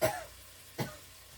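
Two short, quiet coughs about a second apart, close by, with near silence between them.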